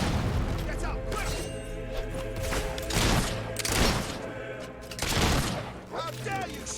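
Gunfire in the video game Fable 3, a busy run of shots and impacts bursting through dense game music and effects, with voices talking over the action.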